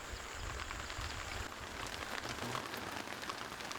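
Steady rain falling at night in the Asian wilderness, a dense continuous hiss of drops on surfaces with no voices.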